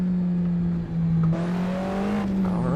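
A loud Alfa Romeo 4C engine in the Assetto Corsa racing game drones steadily, then climbs in pitch as it revs up through a gear with a brief break, heard up close and alone.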